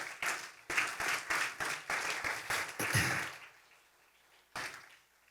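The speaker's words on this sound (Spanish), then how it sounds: "¿Cuántos pueden dar un aplauso al Señor por esto?" A church congregation applauding during a Spanish-language worship service: sharp bursts of clapping for about three seconds, fading into quiet, then one more isolated clap.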